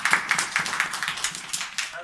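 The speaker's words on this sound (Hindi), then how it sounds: "ताली बजाएं बहनों के लिए।" Congregation clapping at a church gathering, a fairly even patter of hands at moderate distance, rhythmic and somewhat faint, with a voice speaking over it.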